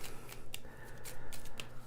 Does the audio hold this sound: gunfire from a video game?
no